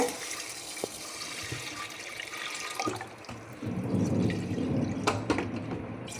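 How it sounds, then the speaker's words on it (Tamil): Water pours steadily into a cooking pot, a gushing stream that grows fuller and louder partway through, with a few small clanks. "தண்ணி ஊற்றிக்கலாம்."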